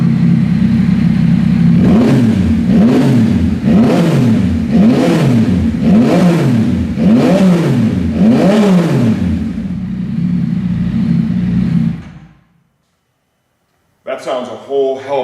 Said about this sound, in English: we started the bike, we've warmed the motor, we're ready to rev it